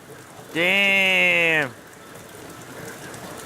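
Heavy rain pours down onto garbage cans as a steady, close hiss of water, with a loud sustained tonal cry or voice rising over it for about a second early on.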